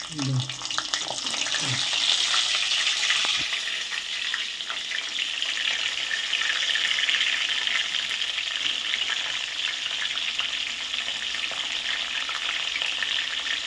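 Brinjal (khara vanga) frying in a pan sizzles loudly and continuously throughout, with a few low clinks of handling at the start.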